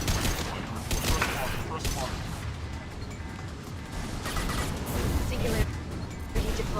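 Rocket fire and explosions in the video game Mass Effect 2 form a dense, continuous barrage of booms and crashes that keep going throughout, with game audio loud and busy.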